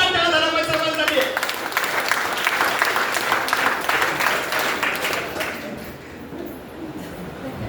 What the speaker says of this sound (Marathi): जोरदार टाळ्या झाला पाहिजे सर्वांसाठी